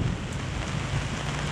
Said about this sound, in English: and it's raining. More lightning.